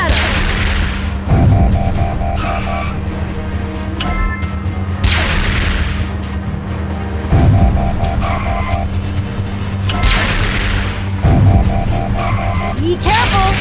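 Enemy robot gunfire in a Transformers Rescue Bots game, with bursts of shots, booms and whooshing sweeps that repeat in cycles about every three seconds over a steady engine-like hum.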